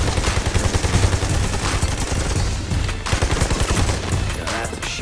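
Sustained bursts of automatic gunfire from the Army of Two: The Devil's Cartel shooter game, rapid and loud for several seconds, with machine-gun rattles and brief pauses between volleys and almost no talk.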